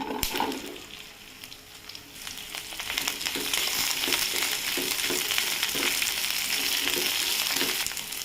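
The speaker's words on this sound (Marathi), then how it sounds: "त्याच्यामध्ये आता 1 चमचा तेल घालून घेतलेलं आहे. आता आपल्याला ही भेंडी घालून घ्यायची." Okra drops into a hot wok with a spoonful of oil and starts frying, the sizzle swelling from quiet to a dense, steady crackle with occasional stirring knocks up close.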